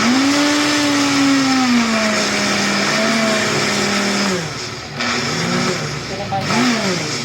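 Commercial grinder blender motor whirring steadily at high speed, a loud continuous whine that shifts pitch as the speed changes, with a brief dip partway through.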